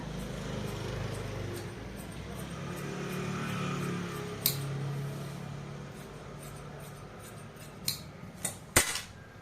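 Scissors snip through blouse fabric while cutting out the back shape, soft and close, with a few sharper clicks of the blades near the end over a quiet room hum.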